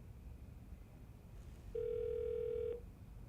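An office desk phone connecting to voicemail, giving a single steady electronic tone about a second long over faint background hiss, with no voices.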